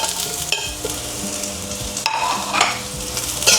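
Garlic and onions sauté in a pan for chicken adobo, giving a close, steady sizzle with bursts of stirring and scraping throughout.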